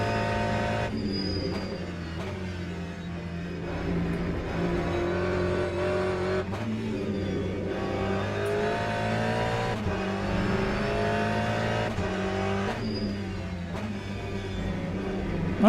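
Race car engine in the Le Mans Ultimate racing game, revving loud and continuous with rising and falling pitch through gear changes, steady and close for the whole stretch with no talk over it.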